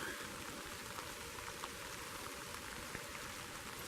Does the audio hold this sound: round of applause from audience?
no